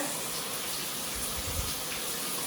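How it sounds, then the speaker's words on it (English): An Intuition shower head sprays water in a steady, close, hissing rush that stays even throughout, with no talking. "So that's the Intuition shower head."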